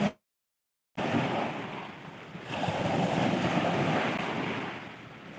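Ocean waves wash onto a seashore in a continuous broad roar, swelling and easing with wind buffeting the microphone, after a brief cut to silence at the start.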